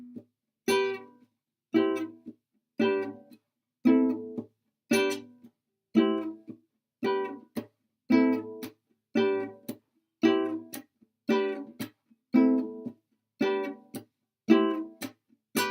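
Guitar chords are strummed alone in an even rhythm, one short strum burst per beat with gaps of silence between, at a moderate, clear level.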